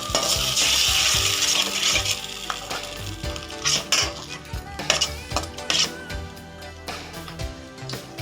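Gobi manchurian sizzles and fries in a pan with red chilli sauce and tomato ketchup over a low flame, with steady loud crackling, scraping stirs and clinks of a utensil against the pan, and no talking.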